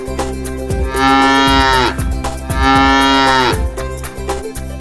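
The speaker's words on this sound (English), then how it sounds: "The cow says moo moo." A cow gives two long, loud moos in a row, each a sustained lowing call that slides down in pitch at the end, close and clear with no talk.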